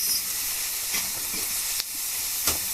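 Carrot and cabbage sizzle in a hot pan under a constant bright hiss, and a utensil stirring them adds a few soft scraping strokes.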